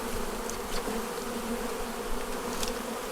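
Honey bees drone steadily around an opened hive with drones present, a dense, close, continuous buzz with occasional louder individual bees passing near.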